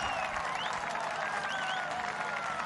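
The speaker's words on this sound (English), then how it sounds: "It's been a while since the crowd had a boundary to cheer for." Cricket crowd at a Pakistan vs Sri Lanka one-day international applauding and cheering a boundary, a steady distant wash of clapping and whistles.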